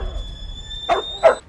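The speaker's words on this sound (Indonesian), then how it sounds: "sepasang suami istri bertanya-tanya kenapa anjing mereka terus menggonggong" A dog barks twice in a house, two short sharp yaps close together against a quiet background with a faint steady hum.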